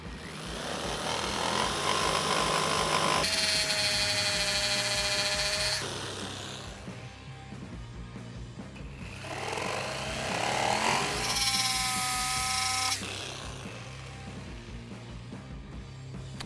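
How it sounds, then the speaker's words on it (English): Saw gang-cutting notches through two clamped wooden skate ramp transitions, loud bursts of whining, shifting-pitch cutting separated by quieter lulls with a low motor hum throughout. "We're going to gang cut them."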